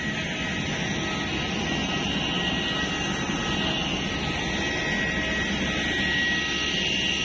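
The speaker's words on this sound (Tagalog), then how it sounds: "Palawan Airport" Jet aircraft engines at Palawan Airport produce a steady, loud broadband roar with a high whine, continuous and unbroken, with no voices.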